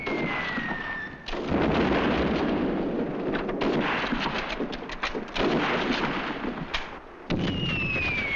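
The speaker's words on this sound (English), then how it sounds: "Firing from behind that wall!" Gunfire and explosions in a 1944 British WWII film: repeated bursts of firing and booming blasts with heavy continuous rumble, plus faint whistling tones at the start and end, and no clear talking.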